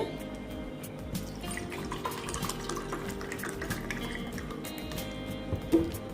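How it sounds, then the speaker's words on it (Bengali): Cold water poured for lemon sherbet, a soft continuous trickling and gurgling of liquid filling a container, fairly quiet and steady throughout. "এই গরমে একটু ঠান্ডা জল দিয়ে"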